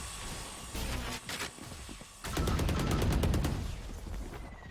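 Bursts of gunfire in a Valorant tournament match, a few sharp shots followed by a long loud stream of rapid automatic fire, close and punchy, with no talking.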